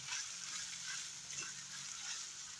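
Tomato paste sautés in a pan for homemade spaghetti sauce, producing a soft, even sizzle that stays faint and steady throughout.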